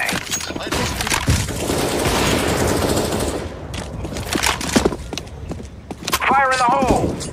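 A flashbang grenade thrown in CS:GO, with clustered sharp gunfire cracks and metallic clatter over a dense game soundscape, as someone talks over it with a burst of excited speech near the end.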